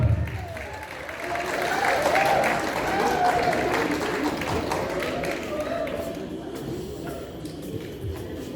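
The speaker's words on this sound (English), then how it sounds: "can we have a big round of applause for the participants that we are calling now?" Audience applause at a trade skills presentation event, a steady wash of clapping from a crowd that swells early and holds for several seconds before easing, with some talk underneath.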